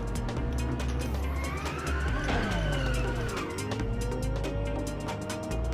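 Racing car engine from the arcade drift racer Inertial Drift, revving loudly and continuously with rising and falling pitch sweeps as it accelerates and shifts, the engine droning throughout with no talking.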